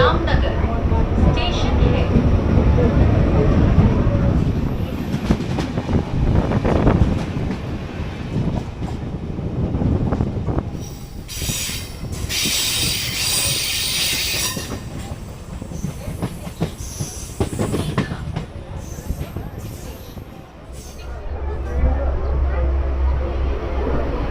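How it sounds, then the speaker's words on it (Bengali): A Howrah–Digha local train runs at speed on the main line, with a loud continuous rumble, rattling wheels and gusts of wind noise throughout, and a person talking at times. "এই ট্রেনটা মেন লাইনে ওঠার পরেই কিন্তু সুপার মেন লাইনে ওঠার পরেই ট্রেনটা সুপার ফাস্ট"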